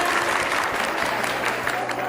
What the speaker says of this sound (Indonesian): Beri tepuk tangannya meriah teman-teman.